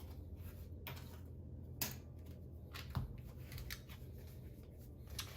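Playing cards for a tabletop card game are handled and shuffled into a deck, giving quiet close-up rustles with several sharp snapping riffles in an otherwise hushed room.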